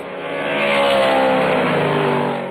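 Loud, sustained engine roar of V8 BMW M3 race cars accelerating together, a steady dense growl with rising harmonics and no voices.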